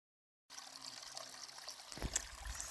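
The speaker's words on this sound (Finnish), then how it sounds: "kauniisti virtaava kirkas puro" A small, clear stream flows over stones in northern Norwegian backcountry, a soft, steady trickle and burble that swells slightly louder near the end, heard alone and fairly close.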